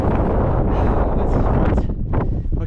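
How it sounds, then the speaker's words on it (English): Strong gusty wind on a hilltop summit buffets the microphone with a loud, continuous low rumble and roar, no voices. "It'd be perfect if it wasn't so bloody windy."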